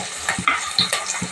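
Garlic and turmeric stirred in a cooking pan, a soft frying sizzle with brief scraping touches of the spoon, close up and continuous.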